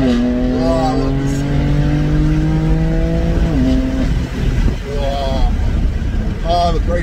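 A warm car's engine revs and rises in pitch while driving, a loud steady drone with climbing tones, a brief dip midway, then renewed revving near the end.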